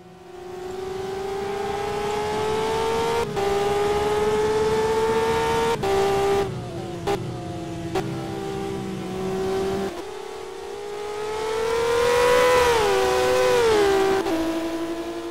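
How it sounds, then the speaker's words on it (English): Formula Renault racing car engines in a racing video game roar loudly and continuously, pitch climbing and dropping with gear shifts and a surging rev near the end. "it's hearing his Formula Renaults roaring to life as well"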